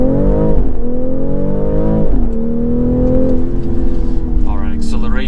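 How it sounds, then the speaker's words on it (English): A 2023 BMW X3 M40i with its B58 engine pulls away hard from a stop sign, the engine note climbing steadily through the gears with brief shift dips, loud and close from inside the cabin. "All right, acceleration in this car is just amazing."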